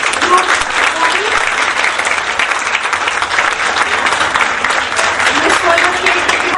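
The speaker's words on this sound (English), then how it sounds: "let's give them a very big round of applause" Dense, steady applause from a group at a Montessori foundation teachers training workshop, sustained at even loudness throughout, with faint voices underneath.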